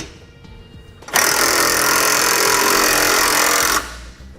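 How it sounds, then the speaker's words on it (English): Power tool whirring steadily for about two and a half seconds while tightening 19mm U-bolt hardware on a Roadmaster crossbar-style base plate kit, loud and close, starting abruptly and cutting off cleanly. "You'll use a 19mm socket or wrench to tighten down all of your hardware."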